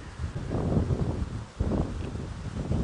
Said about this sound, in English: It's really very, very windy now.